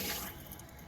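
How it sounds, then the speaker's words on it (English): Water rushes through repaired PVC and PEX plumbing pipes after a freeze-damaged seal was fixed, a steady hiss of flow that is loudest at first and then eases slightly, heard close up. "You can hear the water working"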